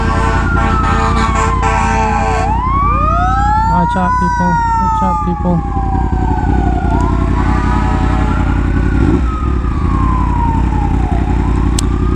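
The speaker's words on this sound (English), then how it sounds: "do I hear sirens?" Emergency vehicle sirens wail loudly nearby, sweeping up and down in long rising and falling tones over steady traffic and road rumble, heard from a Yamaha R1M crossplane motorcycle, while someone shouts a warning to people.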